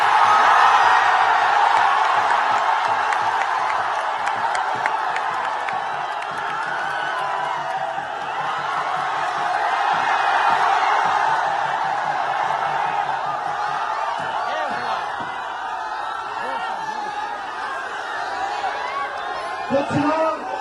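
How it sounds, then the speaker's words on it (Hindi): A large crowd at a Tejashwi Yadav political rally cheers and whoops in a steady, loud roar, with someone speaking over the noise throughout. "देखिए क्या जबरदस्त भीड़ है तेजस्वी यादव के"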